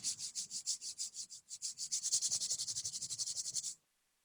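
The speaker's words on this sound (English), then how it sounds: "Friends, can you rub your hands for 30 seconds?" Palms rub briskly against each other in a quick regular back-and-forth rhythm of about twenty-five strokes, close and fairly loud, then stop abruptly into silence.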